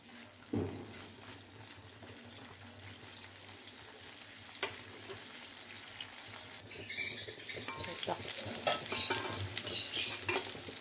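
Chicken frying in hot oil with no water left, over medium heat: a soft, fairly quiet sizzle with an occasional knock, growing into livelier crackling toward the end.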